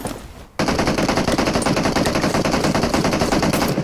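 Sustained rapid automatic gunfire in the mobile battle-royale game PUBG Mobile, loud and continuous after a brief quieter start, dense and steady to the end.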